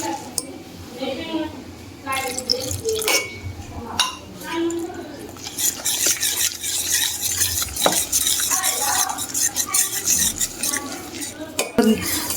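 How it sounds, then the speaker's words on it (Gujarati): A spoon works through farali dhokla batter made with water and curd, giving close, continuous scraping and stirring with light clinks against the bowl, while a voice talks over it. "આમાં આપણે થોડું થોડું પાણી એડ કરવાનું અને હલાવતા જઈશું આપણે"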